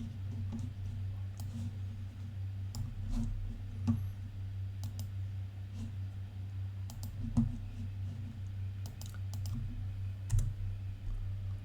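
Keys on a computer keyboard are tapped sparsely in short isolated clicks over a steady low hum, ending with an Enter keypress during a stock-screening setup in HTS trading software.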